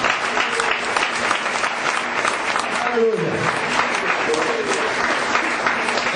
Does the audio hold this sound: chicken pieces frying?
no